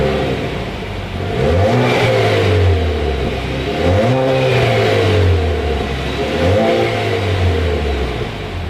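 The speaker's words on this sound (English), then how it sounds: "As always, here is that exhaust clip." A 2019 Chevrolet Camaro Turbo revs its exhaust three times, each rise climbing sharply then falling back to a throaty idle, loud and close with no talk.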